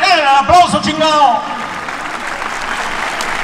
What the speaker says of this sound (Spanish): pues nomás regalen el aplauso